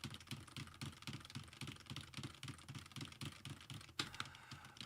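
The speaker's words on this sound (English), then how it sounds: "maybe it's just gonna let me keep typing" Steady typing on a computer keyboard, quick clicky keystrokes in a fairly regular rhythm, close and fairly quiet, continuing without talk.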